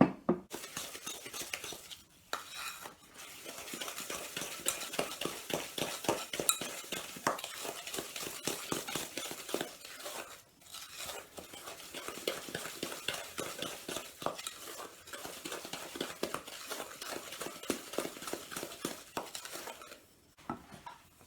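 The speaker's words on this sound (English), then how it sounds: "In my bowl, I'm going to cream my butter and my sugars" Butter and sugars being creamed in a bowl for oat and chocolate chip cookies, a continuous scraping and clinking of a utensil against the bowl in quick, uneven strokes, close and alone without talk.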